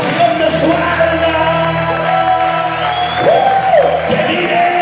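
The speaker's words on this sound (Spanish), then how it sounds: "¡Aplauda! ¡Aplauda!" A church congregation applauding during a Spanish-language sermon, a steady wash of clapping and crowd noise with scattered shouts and music underneath, loud and continuous throughout.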